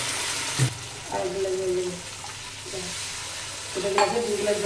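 Potatoes sauté with spices in a pan, giving a continuous moderate sizzle with intermittent stirring scrapes close by.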